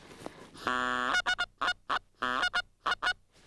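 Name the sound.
excited greeting call imitating geese on a goose caller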